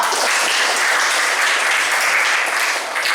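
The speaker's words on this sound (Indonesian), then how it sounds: "tepuk tangan semuanya" A burst of dense applause from a class of students, loud and continuous for a few seconds with no pauses.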